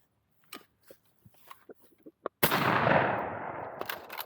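A single loud, close gunshot during backyard target shooting at a country birthday, a sharp blast with a long rolling decay, preceded by a string of faint clicks and taps and followed by further small knocks.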